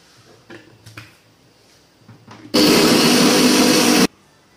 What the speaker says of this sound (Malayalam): എന്നിട്ട് ഒന്നും കൂടി ഗ്രൈൻഡ് ചെയ്തെടുക്കുക